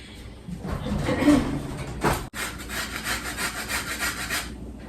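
A lemon being zested for a feta spinach quesadilla recipe: a steady scraping and rasping against a grater, loud and close, with a brief harder scrape near the middle and no talking.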